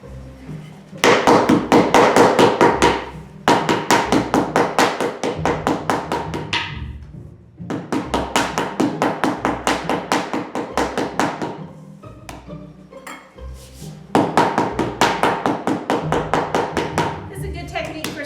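Repeated hard taps of a rolling pin beating a stiff, solid pie dough on a floured counter, coming in bursts of rapid thuds separated by short pauses, close and loud, with a person speaking between the bursts.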